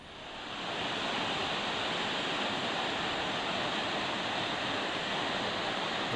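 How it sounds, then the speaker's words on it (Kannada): Balebare waterfall on the Hosanagara–Udupi highway near Shimoga roars under heavy monsoon rain, a steady, dense, broadband rush that swells in over the first second and then holds constant with no voices. "ಇದೇ ಬಾಳೆಬರೆ ಜಲಪಾತ"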